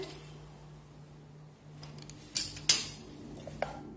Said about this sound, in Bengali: কুকারটাকে খুলে দেখছি ভাতটা কেমন হয়েছে।